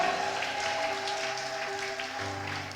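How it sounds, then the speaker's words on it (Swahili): A church congregation clapping together after the preacher's call, a dense steady wash of applause filling the room from start to finish. "Patia Yesu makofi."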